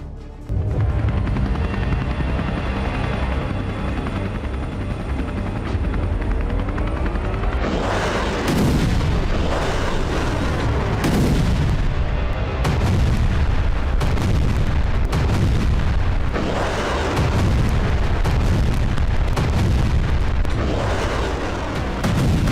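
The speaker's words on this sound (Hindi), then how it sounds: "हवा से बारूदी वज्रपात हो रहा है।" War footage of air strikes and artillery: a steady rotor-like drone, then repeated heavy booming blasts and gunfire rolling in quick succession, loud and dense with no talking.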